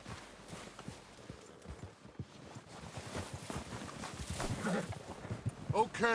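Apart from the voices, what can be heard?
horses approaching in Red Dead Redemption 2, video game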